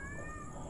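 A white cat gives a single short meow, close and clear over low background noise.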